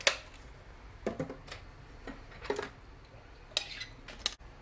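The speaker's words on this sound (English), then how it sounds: "Okay, I'm going to give it a stir." A pot holding cumin and garlic is stirred with a utensil, giving several short, close clinks and scrapes spaced irregularly over a quiet background, fairly soft, with no talking.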